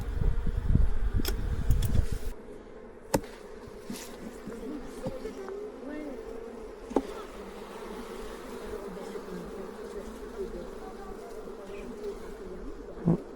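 Honeybee colony buzzing steadily during a transfer from a nucleus box into a full hive, a dense continuous drone with a louder rustling burst at the start and occasional clicks and knocks.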